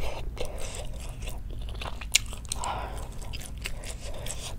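Spicy Korean chicken stew with beef tripe and rice is eaten right at the microphone, with moist chewing, soft squelches and occasional crunchy bites in a steady rhythm, with one sharp click midway.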